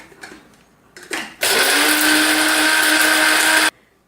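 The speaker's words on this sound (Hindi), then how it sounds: "ये दें गिर से हमारे इसको इसमें डाल लेंगे अपने ग्राइंडर में, और एक बहुत बारीक सा पाउडर बना करके" An electric kitchen grinder whirs loudly for about two seconds as it pulverizes shikanji masala spices into fine powder, preceded by a couple of short knocks and brief bursts and ending abruptly.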